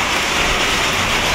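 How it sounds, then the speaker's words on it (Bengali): Rain falls outdoors in the Saudi Arabian desert as a loud, dense, steady hiss of drops, close and continuous without talking. "বৃষ্টি আসছে, ভিজা যাইতেছে, সাইকেল টাইকেল সব বাইরে রইছে।"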